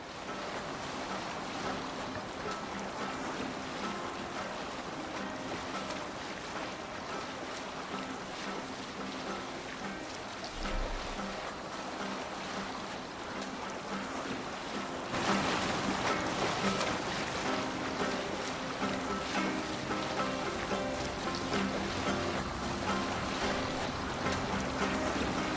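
A longship under sail in Assassin's Creed Valhalla, with waves washing against the hull and wind rushing steadily, swelling louder partway through, no speech heard.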